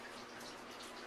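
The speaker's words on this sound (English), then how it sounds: "Now I take the water that was just boiled, and as you can see, I just try to distribute it evenly" Freshly boiled water poured steadily into a bin of mozzarella curd in a deli kitchen, a continuous soft splashing gush with no pauses, fairly quiet and with no voices.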